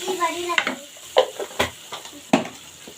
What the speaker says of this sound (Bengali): ডিমগুলো আগে আমি ভেজে নিব।